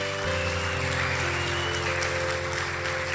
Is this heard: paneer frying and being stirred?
no